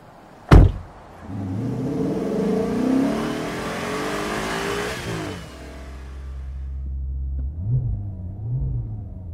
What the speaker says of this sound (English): here she comes now to pick me up in her Maserati